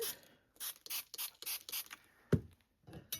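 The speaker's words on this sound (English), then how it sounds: "add some of the infusions onto my craft mat, spray with water" Several short bursts of hissy water spray onto a craft mat in quick succession, then a soft thud and a few fainter puffs, close by with no talking.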